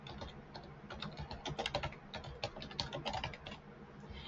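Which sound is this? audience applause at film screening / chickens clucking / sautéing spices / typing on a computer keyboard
typing on a computer keyboard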